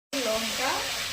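Tomato hitting hot oil in a pan of maya fish curry (chorchori), giving a sudden burst of steady, close sizzling that holds for about a second.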